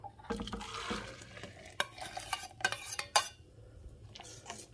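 A spoon stirs a hot drink liquid inside a container, close-up irregular scraping and clinking against the sides with brief sloshes, some strikes sharper than others.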